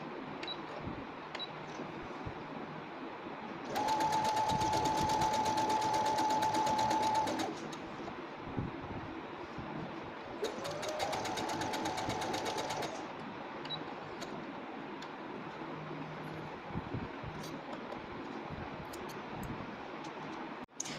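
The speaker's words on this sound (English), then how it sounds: "Now put both the parts right on right and then sew it, leaving 1/2 inch." A sewing machine stitches the shoulder seams of a blouse in two bursts of rapid, steady mechanical ticking, each lasting a few seconds, with quieter handling noise between and after them.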